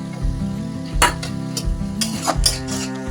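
Green peas tipped into a hot pan for a crispy vegetable chop filling sizzle alongside several sharp scraping stirs of a utensil against the metal, close and fairly loud with a steady low hum underneath.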